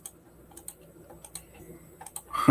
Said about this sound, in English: We can hear you clicking.